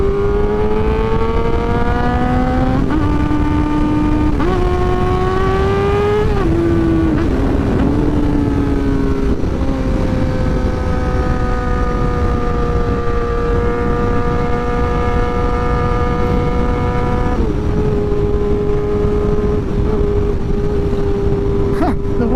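A 600cc sport motorcycle engine revs steadily and loudly up close, its pitch climbing and dropping with several throttle blips.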